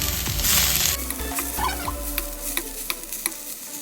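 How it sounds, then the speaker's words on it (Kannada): Spinach (palak) being sautéed in a pan for palak paneer rice, a close, loud sizzle with scraping stir strokes at the start, then softer frying and light taps of the spoon. "ಇದಕ್ಕೆ ಪಾಲಕ್ ಆ್ಯಡ್ ಮಾಡ್ಕೊಳ್ಳೋಣ."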